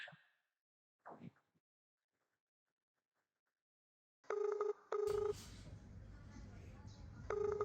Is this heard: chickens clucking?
no